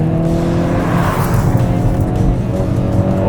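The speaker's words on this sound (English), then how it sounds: "I'm gonna whip around this corner here in this Kona" A 2022 Hyundai Kona N hot hatch driven hard through a corner, its engine droning loud and steady from inside the cabin with a faint tire hiss, no talking.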